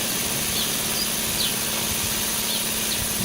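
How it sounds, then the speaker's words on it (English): A Stuart 504 model steam engine runs fast on a gas-fired boiler, giving a steady, even whirring hum with a faint rapid beat, continuous and close. "Now at that speed the engine's revving quite fast and the boiler's holding steady at 30"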